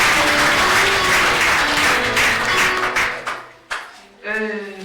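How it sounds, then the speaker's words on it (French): Audience applause greeting new students at a welcome ceremony, a loud dense clapping that breaks off near the end, followed by a couple of sharp knocks and a brief voice. "On peut encore applaudir."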